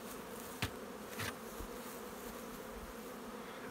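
Honeybees buzzing inside an opened nuc hive during a brood check, with pollen substitute on the colony: a steady, soft, low hum that continues throughout, with a couple of brief closer buzzes as bees fly past.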